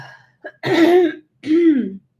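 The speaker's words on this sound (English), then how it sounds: "I'm dying because I got a coughing fit." Two harsh, throaty coughing bursts close to the mic, one after the other, with a brief click before them.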